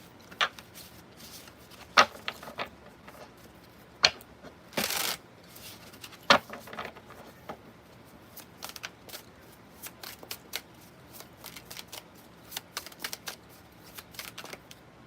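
Tarot cards shuffled by hand in a run of crisp, papery riffles and snaps, with a longer burst of rapid flicking midway and scattered sharp taps, close and fairly quiet with no talking.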